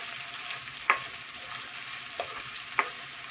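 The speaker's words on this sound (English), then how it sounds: "I've taken 1 medium onion and fry it until it becomes a little golden." Finely sliced onions frying in oil until golden, a steady close sizzle with three sharp spatula taps against the pan spread through it, no talking.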